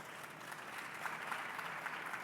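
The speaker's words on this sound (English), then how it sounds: "Carlos Lopes, a round of applause" Faint, even applause from a conference audience, a continuous soft patter of many hands clapping at a distance without voices.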